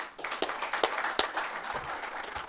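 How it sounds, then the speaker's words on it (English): Seminar audience clapping for a man in the crowd, a short, moderately quiet spatter of handclaps with a few sharper individual claps standing out, lasting about two seconds. "can we clap for this gentleman?"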